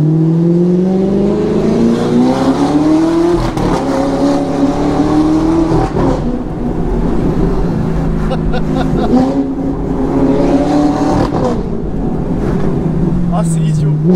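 Audi R8 with a V8 engine and R-tronic gearbox revving high and loud in continuous rising sweeps that drop after each shift, the pitch climbing steadily toward about 8,000 rpm, with wind noise throughout.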